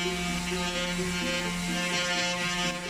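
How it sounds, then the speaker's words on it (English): Random orbit sander running steadily on hardwood faces of a hex gaming tray, a continuous close buzzing whine with even motor hum and no pauses. "First I would use the random orbit sander to clean up the top and bottom faces."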